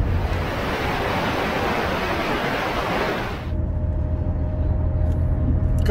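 A camper van drives on an asphalt road in New Brunswick at around zero degrees, giving a broad, loud roar of tire and wind noise. About halfway through, the noise shifts to a lower, steadier engine hum with a faint whine.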